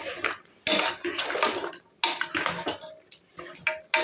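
Goat leg curry masala being mixed with oil in a pot gives bursts of loud metal spoon scraping and clanking against the pot, coming in uneven strokes with short pauses between them.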